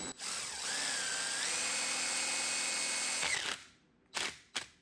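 A power drill whirs steadily for a few seconds, pitch rising as the screw bites into sheet metal on a 1976 Triumph TR6, then two short bursts of the drill follow.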